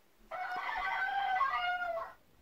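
A rooster crows once, a long warbling call lasting about two seconds, fairly close and clear against a quiet background.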